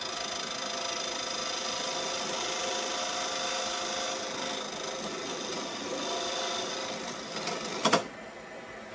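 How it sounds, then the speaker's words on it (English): A skew chisel taking aggressive peeling cuts on a wooden tenon at the lathe, a steady loud whirring hiss of the spinning workpiece throughout, ending in a sharp catch and clatter near the end. "I'm attempting to take the tenon off with aggressive peeling cuts from"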